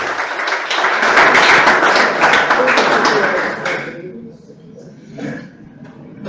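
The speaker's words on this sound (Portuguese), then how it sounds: "Então dá um aplauso ao Senhor." A church congregation applauds during a pastoral meeting, with loud, dense clapping for about four seconds before it fades into quieter murmuring.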